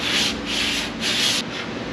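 Body filler on a car panel is sanded by hand with a contour sanding block, three strong back-and-forth rasping strokes close to the microphone, no voices.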